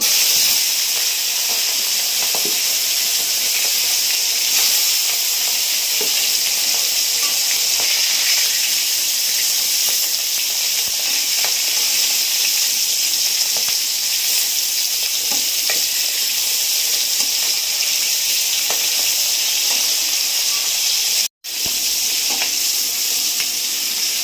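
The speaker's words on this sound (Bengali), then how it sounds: "চিংড়ি মাছ আর আলুর জন্য আমি জিরে ভেজে নিচ্ছি।" Cumin seeds frying in oil in a wok, a steady loud sizzle and hiss running continuously with faint stirring clicks, broken by one brief dropout near the end.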